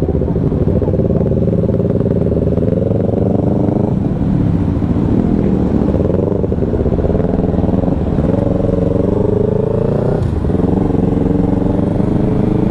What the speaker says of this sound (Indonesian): Starternya jelek banget, Lang.